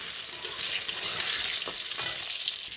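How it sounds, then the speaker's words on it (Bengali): Oil sizzles and crackles steadily as eggplant fries in a pan, a dense, even hiss with no voices. "বেগুনগুলো তো আমার ভালো করে ভাজা হয়ে গেছে"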